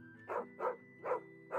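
A dog in Final Fantasy XVI barks four times in an even rhythm, each bark short, clear and moderately loud, with a faint steady game tone underneath.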